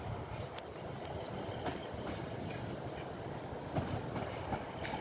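Class 150 two-coach diesel unit pulling into Manchester Piccadilly, a steady rolling rumble with faint wheel clicks and brief squeals over station ambience, moderately near and continuous.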